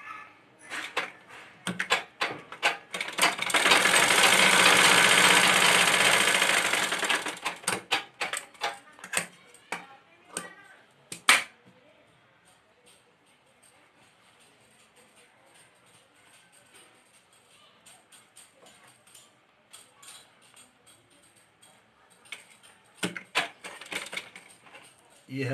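A sewing machine stitching a kurti sleeve to the shoulder piece runs in one loud, continuous burst of a few seconds, then gives way to scattered clicks and fabric-handling taps with quieter gaps.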